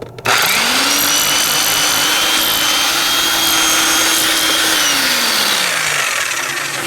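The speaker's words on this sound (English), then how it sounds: "attempt to hammer drill this out" A hammer drill bores into rock inside a gold drift mine, a loud steady whine and grinding chatter running for about six seconds after a sharp start, then spinning down at the end.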